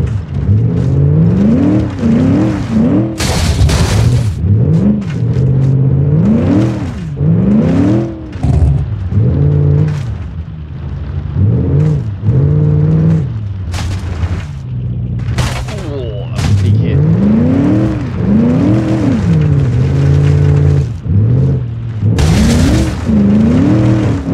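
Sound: V8 muscle car engine in the video game BeamNG

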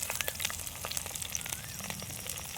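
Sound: dried red chillies and curry leaves sautéing in oil

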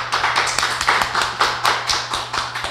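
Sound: person clapping hands

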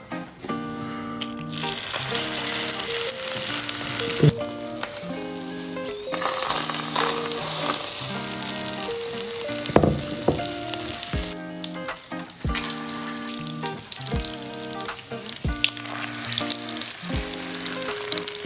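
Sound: sausage rolls frying in pan

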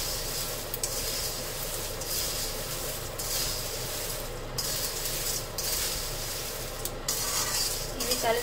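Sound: stirring and mixing the mixture in a pan

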